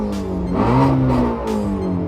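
A Shelby GT350 V8 engine revs hard toward its 8,250 RPM redline, its pitch rising and falling in a loud, sustained growl close by.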